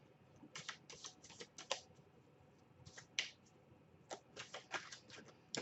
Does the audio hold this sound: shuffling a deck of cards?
yes